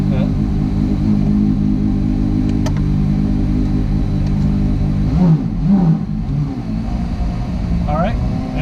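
A Porsche Carrera GT street car's engine rumbles loudly and steadily up close, with a brief rise in revs midway before settling back to a deep, throbbing idle.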